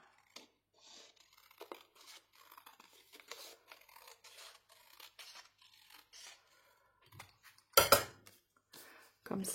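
Scissors cut fabric and material while a small box is being made by hand: scattered soft snips and rustles, then one louder burst of crinkling close by, with no talking.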